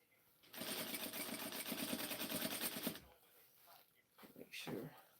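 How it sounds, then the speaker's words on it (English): A sewing machine stitches close to the edge of a bodycon prom dress seam, a steady rapid whirring run of about two and a half seconds, followed by a brief quieter pause and a few short sounds as someone speaks. "I'm sewing it, stitching it close to the edge because it is a bodycon type dress."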